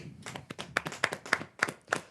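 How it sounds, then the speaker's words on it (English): A small group claps briefly for the tech team, a short burst of sharp, quick claps at moderate volume in an indoor podcast setting. "Can we get a round of applause for our tech team?"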